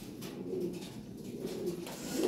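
Toy Lahori and Sirazi pigeons, a pair offered for sale, coo in low, rolling, throaty murmurs that repeat steadily and stay close, over a faint background hum.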